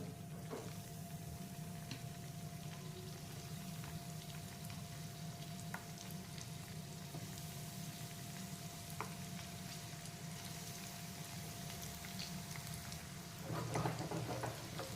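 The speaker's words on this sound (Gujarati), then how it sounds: "હવે આપણે એને ફ્રાય કરીશું." Rolls made from leftover cooked rice sizzle steadily in hot oil over a medium flame, a constant soft crackle with a brief burst of louder spattering near the end.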